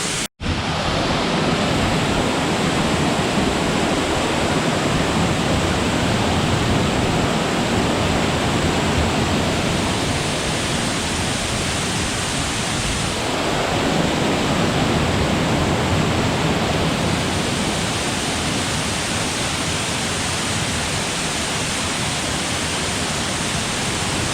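Loud, steady roar of waterfall spray at Double Falls, a broad continuous rush close to the listener with slight swells and dips and no voices.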